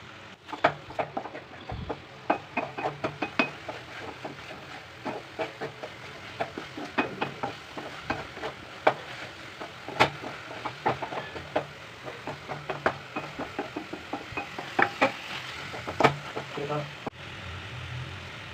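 Spinach (palak) frying in a pan with chilli powder, coriander powder and salt, giving a steady sizzle broken by frequent scraping and clacking from stirring, close and moderately loud, with no talking.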